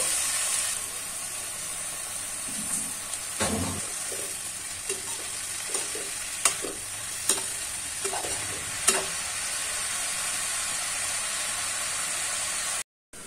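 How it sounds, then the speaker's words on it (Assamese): Mustard greens frying in a covered pan give a steady, close sizzle and hiss, with occasional soft clinks and stirring knocks, stopping abruptly near the end. "এতিয়া লাই শাকটো মই ধুনীয়াকৈ এনেকে ঢাকি দিছিলো ঢাকি পেলাই ভাজিছিলো"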